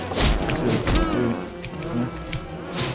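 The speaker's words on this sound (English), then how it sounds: "Oh no, attacking bees." Angry attacking bees in the survival video game Don't Starve buzz in a loud, dense swarm, their droning wings rising and falling close by, with short sharp hits cutting through.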